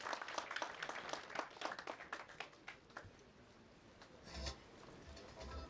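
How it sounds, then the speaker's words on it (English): A small crowd at a customer awards gathering claps for prize winners, a fairly faint patter of scattered hands that tapers off after a few seconds, with a soft thump near the end. "Let's give them a round of applause, gentlemen."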